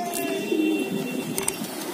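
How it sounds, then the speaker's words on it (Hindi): Soft, low pigeon coos rolling over steady outdoor background noise, with a faint chirp in the distance. "आज तीन कबूतर बैठे हैं, तीन कबूतर बैठे हैं"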